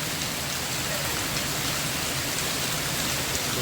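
Heavy rain pours down steadily and loudly, a continuous close roar of drops striking surfaces, with no talking.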